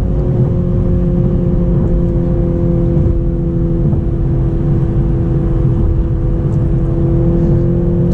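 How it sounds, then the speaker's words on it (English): A Toyota Supra 2.0 with a four-cylinder engine accelerates from inside the cabin, giving a steady, loud engine drone with road noise that holds fairly constant throughout. "All right, so now we're gonna accelerate."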